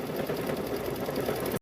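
A Brother Luminaire 2 sewing machine stitching quilt fabric, running at a steady fast hum for under two seconds and stopping abruptly, close and alone.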